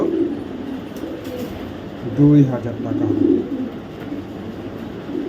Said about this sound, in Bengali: কবুতরের কোয়ালিটি দেখবেন তারপরে কবুতর ক্রয় করবেন